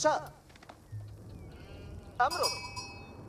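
Sheep bleat in a match of the video game Age of Empires IV, two short bleats over quiet game ambience, with other small game sounds between them.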